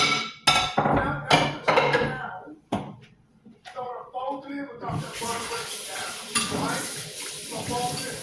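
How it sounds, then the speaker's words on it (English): Dishes being rinsed under a running kitchen tap, a steady hissing rush of water that starts partway through and continues to the end, with a person talking over the opening and faint clinks. "I'm rinsing my dishes"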